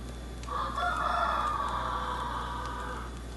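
A rooster crows once in a long, steady call. It sounds a little distant and lasts almost three seconds over a constant low background hum.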